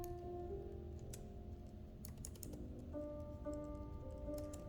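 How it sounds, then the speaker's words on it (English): Long fingernails tap and clack on a computer keyboard in steady irregular bursts of typing, close and clear over a low background hum and tonal drone. "You hear my nails struggling with the typing?"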